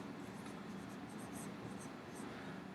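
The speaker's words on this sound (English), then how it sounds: "Maybe I should write the whole word out up here." A pen or pencil writes a word out by hand during a math lesson, making a continuous faint scratchy rasp that runs steadily throughout the clip, with no speech.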